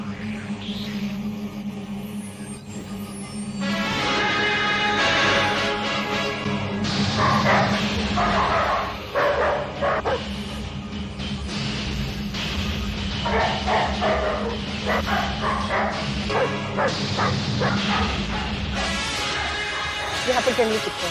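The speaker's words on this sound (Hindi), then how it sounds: "यहाँ पर जंगली कुत्ते हैं, हम नहीं जा सकते।" Wild dogs bark and yip repeatedly at mid distance amid a busy, dramatic backdrop, with voices and crashing noises mixed in around the barking.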